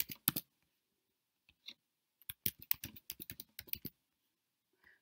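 Fingers type on a computer keyboard in a quiet room, a few isolated taps followed by a quick burst of about a dozen close, crisp key clicks, then a single faint tap.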